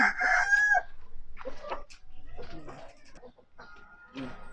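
A rooster crows loudly and close during chicken feeding, then hens cluck in scattered soft bursts, with a person talking nearby.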